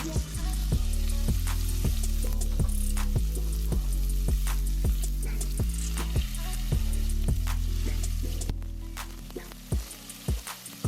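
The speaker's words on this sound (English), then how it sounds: "Oil is now heated, so we want to go ahead and lay the beef cubes seasoned side down." Seasoned beef cubes searing in heated oil, a strong crackling sizzle punctuated by a series of distinct clinks and taps as pieces are laid in one by one, fading toward the end; no voice.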